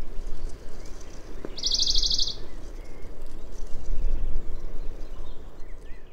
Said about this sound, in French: le chant des oiseaux vient se répercuter au fond de la parabole